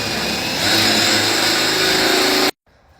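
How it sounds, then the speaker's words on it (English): A power drill boring holes for eye bolts, a loud, steady high-pitched whine that rises slightly in speed and then cuts off abruptly, leaving near silence. "Now that I got both holes drilled,"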